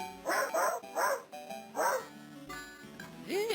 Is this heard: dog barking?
yes